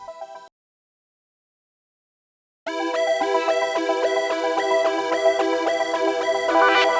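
GarageBand synth melody built from an Icy Synth Lead over a Stardust arpeggiator, a brief note blip then silence before a bright, steady layered arpeggiated line enters and continues at even loudness, no voices.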